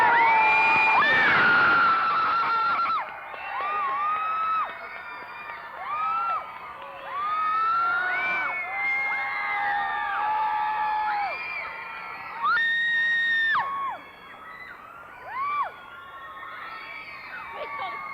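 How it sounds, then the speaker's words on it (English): A theater audience at a 1997 stage production of The Music Man cheers, whoops and screams loudly and continuously, with high shrill yells rising above a dense crowd roar. "Please call the screaming guys down."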